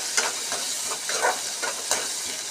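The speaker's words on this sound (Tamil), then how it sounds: "இது தக்காளி நல்லா வதங்கட்டும்." Tomatoes sautéing in oil for a minced-meat kola urundai kuzhambu, a bright close hiss of frying with brief soft stirring bursts at irregular moments.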